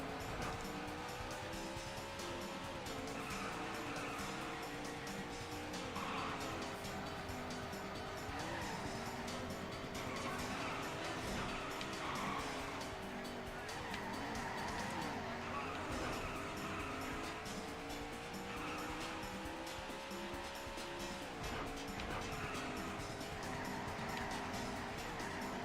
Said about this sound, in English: Stop it! Stop skidding, thank you.